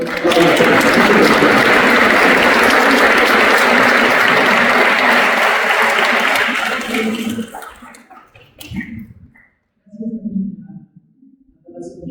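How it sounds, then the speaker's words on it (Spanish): Loud, dense applause from a packed room greeting guests at a book signing event, sustained for about seven seconds before thinning into scattered claps and a few murmuring voices. "vamos a recibir con un fuerte aplauso"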